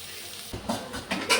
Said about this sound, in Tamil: இப்போ ஆனியனும் கருவேப்பிலையும் இது நல்லா ஃப்ரை ஆகிற வரைக்கும் இதை நான் அப்படியே விட்டுடுறேன்